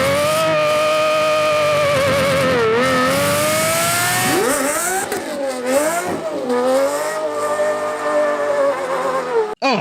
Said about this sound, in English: just hearing that wheel hop again